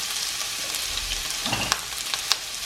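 Steady oily sizzle of red onions frying in about two tablespoons of oil in a pan, with a few soft stirring clicks and pops, close and fairly quiet, no voices.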